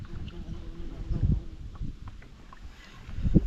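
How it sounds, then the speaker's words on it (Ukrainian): Low, rumbling wind buffets the microphone in uneven gusts while fishing by reeds, swelling and easing, with a voice talking faintly underneath. "Вітер дуже поривістий."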